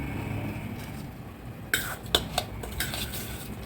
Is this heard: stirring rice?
yes